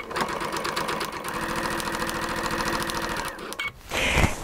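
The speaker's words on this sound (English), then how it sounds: "Let me find my foot control and let's actually sew." Sewing machine with a dual feed foot stitching straight-line quilting on a large quilt, a steady fast mechanical whir and rapid needle chatter running evenly for several seconds before stopping, close and fairly loud with no talking.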